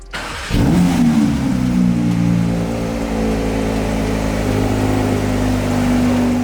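A 2022 Porsche 992 GT3 flat-six fires up with a sudden loud bark, then settles into a strong, steady high idle with a humming drone, heard close and alone.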